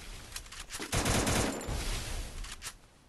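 Rapid automatic gunfire from the battle royale game Free Fire rattles in several bursts, loud and close, with a heavy sustained volley in the middle and sharper separate shots toward the end.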